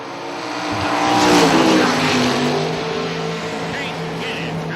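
Top door race cars rumble and rev loudly at a drag strip, the engine roar swelling then easing as a car passes, with announcer-style talk over it.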